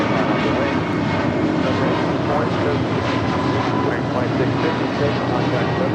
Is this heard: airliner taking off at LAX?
yes